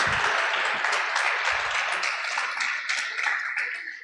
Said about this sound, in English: let's give our police department, men and women, a round of applause